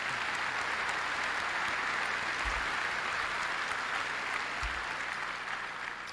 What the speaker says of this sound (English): you should give him a hand